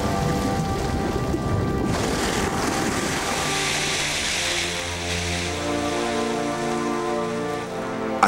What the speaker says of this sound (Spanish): la lluvia comenzó.